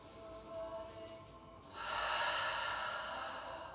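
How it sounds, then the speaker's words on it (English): A deep, close inhale during a yoga stretch, quiet at first and then swelling into a full airy breath that holds steady to the end. "Big inhale."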